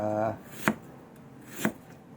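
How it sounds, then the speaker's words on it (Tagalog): Ginger is sliced with a knife on a cutting board at an outdoor campsite: two sharp, close cuts about a second apart, with a short voiced sound at the start. "Hiwain ang luya para"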